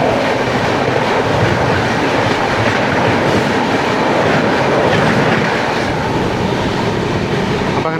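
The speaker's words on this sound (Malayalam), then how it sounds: "കോയമ്പത്തൂർ ബാംഗ്ലൂർ ഉദയ എക്സ്പ്രസ് വരുന്നുണ്ട്." The Coimbatore–Bangalore Uday Express rushes past at speed, a loud, steady rumble of wheels with rhythmic clickety-clack over rail joints, sustained throughout without any voices.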